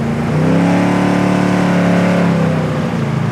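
A 1971 Chevrolet Chevelle SS with an automatic transmission accelerates in third gear, its V8 roar loud and close, climbing steadily in pitch before easing off. No voices break through the engine.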